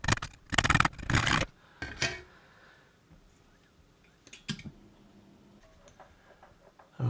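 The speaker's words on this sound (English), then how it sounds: "I'm just going to cut this board out with a little saw." A small hand saw cuts out a circuit board, starting with loud, quick rasping strokes, then thinning to faint scrapes and light taps.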